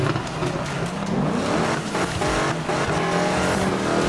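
A blue car in a demolition derby video game roars and revs, engine pitch sweeping up and down, with tire squeals and a couple of dull impact thumps, loud throughout.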